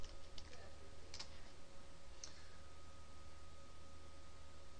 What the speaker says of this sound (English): I'm actually gonna type in https://www.paypal.com